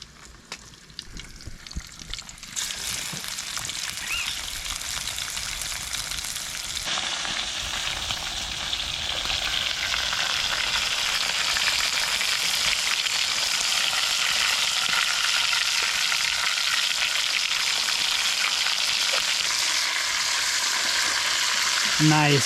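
Snapper dusted with flour and salt fries in oil, the sizzle building from quiet to a loud, dense, continuous crackle that holds steady up close for a long stretch, with faint talking early on.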